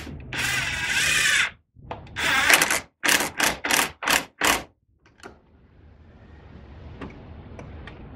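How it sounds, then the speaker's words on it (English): A power driver runs a bolt back in to secure the steering wheel on a Jeep or Chrysler during an airbag system repair: a long whir, then a series of short, tight bursts as the bolt seats, followed by quieter handling noise. "we're gonna go ahead and run the bolt back in to hold the steering wheel on and make sure we're good and tight"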